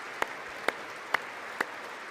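Four sharp, evenly spaced claps land directly on a close microphone, each a loud isolated smack over faint background hiss.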